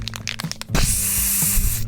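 A spray paint can hisses in one loud, steady burst after a few short rattling clicks, close up and with nothing else heard.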